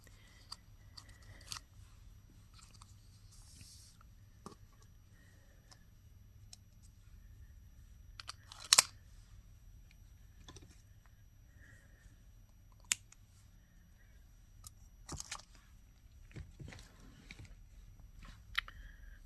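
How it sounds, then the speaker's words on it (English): Small scissors or cutters snipping a piece for a Celtic knot anklet, a few sharp isolated clicks and snips scattered over quiet background, close and faint. "we'll go over and cut the piece for the other side"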